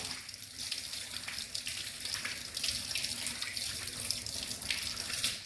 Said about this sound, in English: Rinse your hands very well.